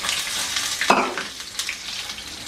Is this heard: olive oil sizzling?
yes